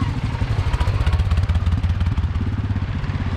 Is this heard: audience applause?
no